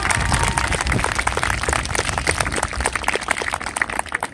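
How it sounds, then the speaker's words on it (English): An audience at a karate meet claps, a dense run of many hands that holds steady for several seconds, close and fairly loud with no voices. "Let's give her a big round of applause."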